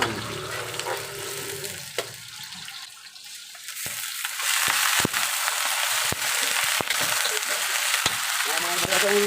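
Chicken caldereta cooks in a pan, starting with a few faint clinks and water-like noise, then swelling after a few seconds into a steady, close sizzle marked by sharp utensil taps.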